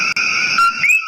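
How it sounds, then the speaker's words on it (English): Coquí frog calling in Puerto Rico, a loud, close, sharp two-note whistled chirp rising at the end, heard alone. "the coquí is a cultural icon of Puerto Rico,"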